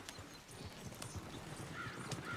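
Horse hooves clip-clop steadily as a horse-drawn wagon rolls along in the video game Red Dead Redemption 2, with a faint whinny near the end and no talking.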